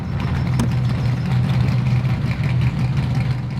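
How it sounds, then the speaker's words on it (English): A modded FJ Bruiser off-road truck in the game SnowRunner idles steadily after startup, a continuous low engine rumble with a faint hum that stays even and fairly loud throughout. "This engine sounds great."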